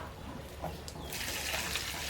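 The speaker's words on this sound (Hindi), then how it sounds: "तो ऊपर से हम लोग पानी डाल दे रहे हैं।" Water is poured over hot, freshly cooked small snails in a village kitchen, giving a soft splashing trickle that swells in the last second, close and fairly quiet.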